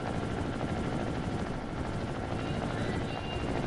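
A player-built helicopter in Trailmakers flies with a constant, loud rotor thrum, a dense steady wash of chopping noise with no pauses. A voice can be heard faintly through it.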